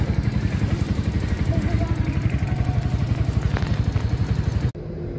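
A motorcycle engine runs close by with a steady, rapid pulsing throb that holds even throughout before cutting off sharply near the end, with voices alongside.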